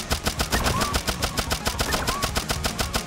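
Loud gunfire in the video game Turnip Boy Robs a Bank, a steady rapid stream of shots repeating evenly throughout, close and dense, with no talking.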